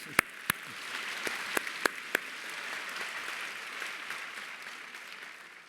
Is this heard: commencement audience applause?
yes